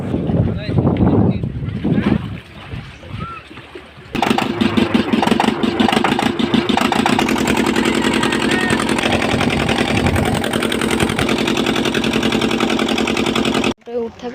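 Boat engine running steadily on a river trip in the Sundarbans, a loud continuous drone that starts abruptly after a few seconds of voices and stops near the end, with people talking underneath.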